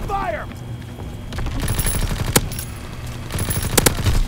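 Dense automatic gunfire and rattling shots in a hardcore World War II shooter game, loud sustained bursts with a few sharper cracks, while players talk over it.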